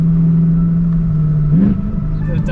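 A BMW M3 with a DCT gearbox holds a steady engine drone, then a quick downshift blips the revs upward before settling, heard up close over a couple of seconds.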